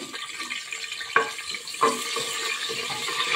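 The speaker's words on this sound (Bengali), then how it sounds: "এখন আমি কিছু আস্ত গরম মশলা এখন দিয়ে দিব তেলের মধ্যে।" Whole garam masala spices hitting hot oil in a pressure cooker, a close, moderate sizzle with a couple of brief clinks and crackles, steady throughout and no voices.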